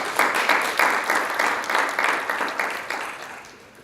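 Audience applause for an absent graduate at a ceremony, a dense burst of steady clapping that swells briefly, then gradually thins and fades over a few seconds.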